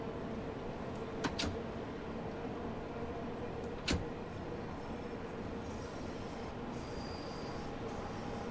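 Simulated underground train running through a tunnel in Train Sim World 2, a steady loud rumbling roar with a faint hum, broken by a few sharp metallic clanks and squeal-like bursts, with no talking.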